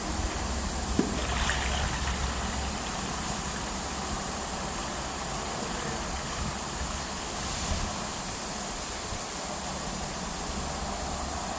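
Old water drains steadily out of a hose from a Zamboni ice resurfacer into a floor drain. A constant rushing wash plays alongside a low engine-like hum at an even level, and no one speaks.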